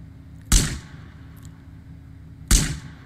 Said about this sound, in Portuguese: Deixa eu dar um tiro nele aqui de sniper.